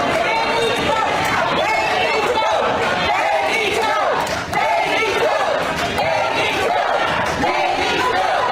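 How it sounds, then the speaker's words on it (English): Protest crowd chanting in rhythmic bursts, many voices shouting together with repeated phrases, loud and dense, with scattered thumps and chatter underneath. "Is the crowd chanting "They need to go" about Wesley Bell?"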